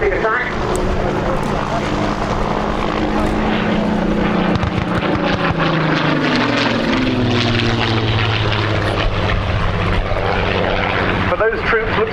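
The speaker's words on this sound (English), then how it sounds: "Spitfire now setting up for a strafing attack." A Spitfire flies past at an air show, its propeller engine droning loudly and changing pitch as it swings through a strafing run, with a commentator talking over it throughout.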